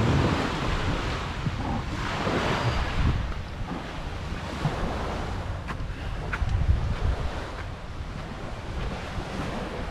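Wind blows across the deck of a moving ferry boat, buffeting the microphone in a constant rushing roar over the churn of water, with no voices.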